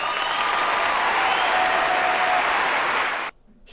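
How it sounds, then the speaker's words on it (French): A crowd applause sound effect: dense, steady clapping from many hands with a faint crowd murmur, holding at full level before cutting off abruptly near the end. "c'est un bruit d'applaudissements et de foule."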